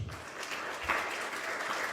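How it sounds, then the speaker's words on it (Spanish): A church congregation claps continuously and steadily, a dense even wash of applause that fills the whole stretch without pause. "Dele palmas a Cristo Jesús."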